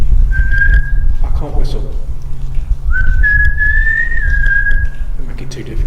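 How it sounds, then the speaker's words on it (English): Whistling inside a disused railway tunnel: two clear sustained whistled tones, the first short and the second long and slightly rising, ringing over a low rumbling background, with a voice speaking between them. "Could you whistle again for us, please?"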